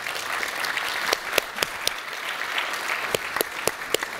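An audience applauds at a Stanford talk on the future of technology, with dense, steady clapping from a sizeable crowd and a few sharper individual claps standing out near the end.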